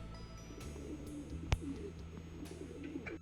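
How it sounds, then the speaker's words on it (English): Pigeons coo steadily in a Japanese outdoor spot while being fed by hand, soft low calls repeating over a faint background, with a single sharp tap near the middle. "Oh, and we also fed some pigeons."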